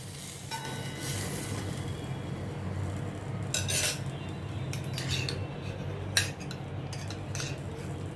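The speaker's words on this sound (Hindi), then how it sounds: "मसाले डाल के इनको अच्छी तरह से मैं मिक्स करती हूँ" A spoon mixes black salt, garam masala and other spices into a filling for stuffed bread pockets, giving soft intermittent scrapes and clinks against a bowl over a low hum.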